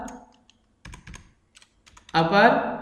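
Keys tapped on a computer keyboard while an Excel formula is typed, a few brief clusters of clicks separated by pauses, fairly close, followed by someone speaking.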